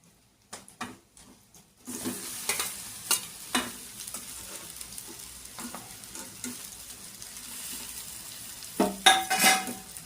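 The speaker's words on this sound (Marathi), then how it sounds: "आता यामध्ये आपण हे बॉईल करून घेतलेले नूडल्स सोडूया।" Boiled noodles tossed into a pan of fried vegetables for veg hakka noodles, with steady sizzling and repeated scraping stir strokes of a spatula against the pan, close and fairly loud, no talking.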